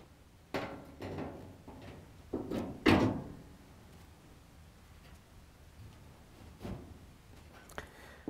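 Plastic front panel of a Frigidaire/Electrolux washer is fitted onto the frame, giving a series of close, sharp knocks and thunks, with a loud clunk as it locks in place, then quiet handling.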